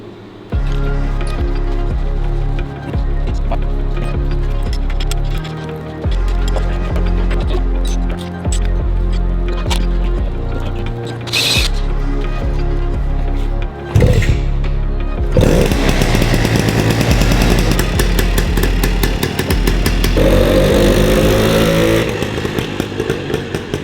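A 1953 MV Agusta 125 Pullman motorcycle engine cranks and fires up, its loud, steady running carrying throughout with a brief pause near the middle and a rougher, harsher burst of revving toward the end.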